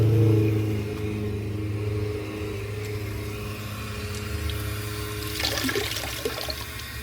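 Water rushes and hisses steadily through the fill valve of a 1952 Homart toilet as its large tank refills, with a constant tonal whine underneath and a splashier burst of water toward the end.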